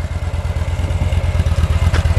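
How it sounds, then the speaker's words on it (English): A fuel-injected Victory motorcycle engine fires up and settles into a steady, rapid low pulsing thump, close by and fairly loud. "And press the start button. Fires right up, but that's fuel injection."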